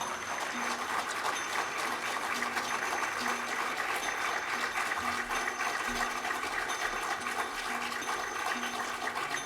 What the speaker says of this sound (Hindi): मैं आग्रह करूंगा कि आप ज़ोरदार तालियों के साथ उनका और उनकी मंडली का